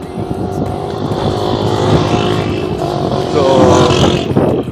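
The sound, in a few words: cars in a traffic jam on the road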